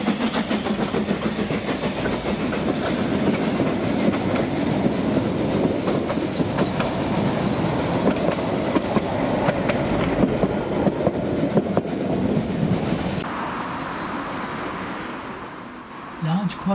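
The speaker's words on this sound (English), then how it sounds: "Large quarry Hunslet Lilla shows a fair turn of speed as it takes a short goods train to Minfordd." Lilla, a large quarry Hunslet steam locomotive on the Ffestiniog Railway, hauls a short goods train at a fair speed, a loud steady rumble and clatter of wagons that eases and thins toward the end.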